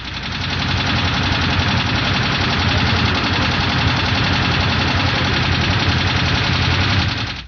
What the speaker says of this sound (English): An engine with loose valve.